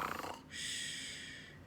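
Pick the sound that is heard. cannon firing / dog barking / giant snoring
giant snoring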